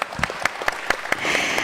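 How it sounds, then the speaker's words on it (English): Scattered, sparse clapping from a small audience at a financial inclusion panel, a handful of distinct claps at first that thicken into a brief steady patter near the end. "Let's give him a round of applause."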